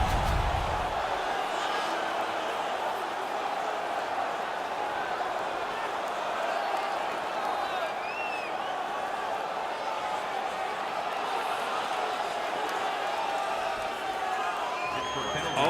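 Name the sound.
crowd cheering in NHL 19 video game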